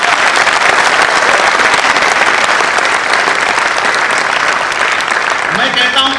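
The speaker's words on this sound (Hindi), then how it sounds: "ये तालियां तुकाराम ओमले तक पहुंचे और ये तालियां मुझे कम लग रही है" Audience applause for a patriotic poet's tribute at an Independence Day poetry recital in Jaipur, a dense, steady wash of clapping filling the hall from start to finish at full volume.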